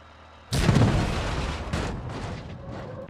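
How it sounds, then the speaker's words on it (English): A cannon fires in the BeamNG driving simulator: after half a second of quiet, a sudden loud boom with a long rumbling decay, then a second lighter thump that trails off, with no talking. "And now the next one's going to be with the cannon."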